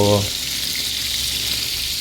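Steady, bright sizzling of dried fish frying in hot oil, close and continuous, after a brief low hum at the very start.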